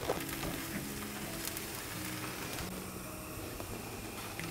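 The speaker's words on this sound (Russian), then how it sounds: "Прожариваем с каждой стороны примерно по 2 минуты." Potato pancake batter made from potatoes and eggs frying in a hot pan, a steady loud sizzle and crackle of oil running continuously with no voices.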